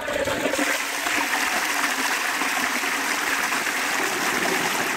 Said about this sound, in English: let's give it another flush.